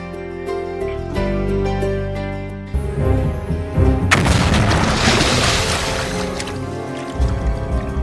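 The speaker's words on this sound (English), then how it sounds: "Fishing with explosives, also known as blast fishing." Blast fishing explosions at sea, a deep boom followed by a surging, rumbling wash and bubbling water, loud and heavy against a steady background, with a second softer thump later.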